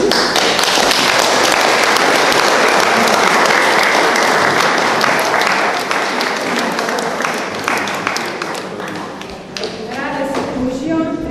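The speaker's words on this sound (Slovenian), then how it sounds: "Ker zaploskajmo jim prosim." A folk music gathering audience applauds a section of female folk singers, loud continuous clapping from a large crowd that slowly thins toward the end, with faint talk underneath.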